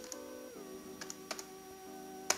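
Typing on a sticky computer keyboard during 3D character modeling work: a few scattered, soft key clicks over a steady tonal background drone.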